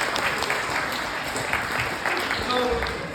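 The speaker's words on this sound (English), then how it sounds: "How about a round of applause?" An audience claps in a lively round of applause that fills the room at a steady, close level, with a voice talking over the clapping.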